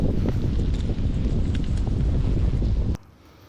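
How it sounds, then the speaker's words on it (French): Steady wind buffets the microphone with a loud, rough rumble for about three seconds, then drops away abruptly to near quiet. "Un peu de vent là, je sais pas si on m'entend bien."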